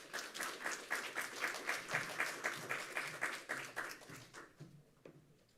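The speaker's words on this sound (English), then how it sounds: "give a big round of applause to our professor" An audience gives a warm round of applause welcoming a professor to a literary talk; the clapping is fairly faint and distant, with a loose pulsing rhythm that thins out and stops toward the end.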